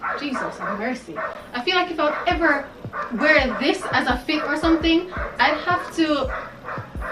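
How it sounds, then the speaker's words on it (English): A pet dog in a home barks and yips repeatedly in short bursts, close and loud, mixed with someone talking over it. "excuse the dog"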